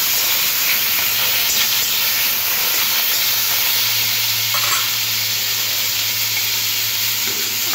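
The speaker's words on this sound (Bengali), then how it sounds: "কালো সর্ষে, তারপরে কেটে রাখা টমেটোটা দিয়ে টমেটোটা ভালো করে এরকম নেড়ে চেড়ে নিতে হবে" Chopped tomato hitting hot oil with black mustard seeds for a sweet-spicy chutney, giving a steady, close sizzle and hiss with soft stirring scrapes throughout, no voices.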